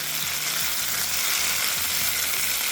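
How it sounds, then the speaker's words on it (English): Minced garlic sizzles in a hot pan with red onions while being stirred for a vegan sloppy joe, a loud, dense, continuous frying hiss close by under a low rhythmic hum. "I'm going to add 2 minced garlic cloves to that. So I'm going to get that in the pan. Just going to give a mix till fragrant."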